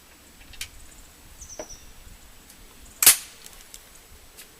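A muzzleloader rifle with its breech plug removed is tapped to free a 209 safety cartridge, giving a single sharp metallic knock near the middle, with a couple of faint clicks before it, close by and otherwise quiet.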